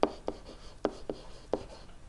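Marker or chalk writing on a classroom board while graphing quadratic functions, a quick series of short scratchy strokes in an uneven rhythm, close and fairly faint, with no talking.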